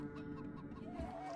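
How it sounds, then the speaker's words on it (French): A chicken clucks softly in a quick run of low, throaty notes, faint and close, with no voices over it. "Le poulet."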